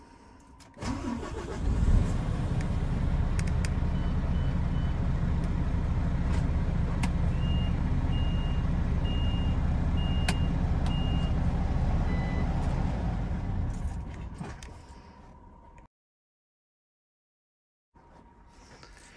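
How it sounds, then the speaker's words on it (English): An LGV lorry's engine starts and idles with a loud, steady diesel rumble, while a reversing warning beeper sounds a series of evenly spaced, fairly faint beeps over it before the engine cuts off. "And secondly, the warning device for reversing."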